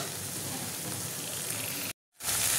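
Potato and capsicum sizzle steadily in a hot pan while being stir-fried for an egg pasta, a continuous hiss that cuts out briefly near the end and then returns brighter.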